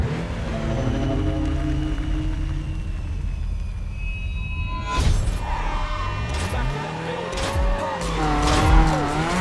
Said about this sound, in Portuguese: arrancada perfeita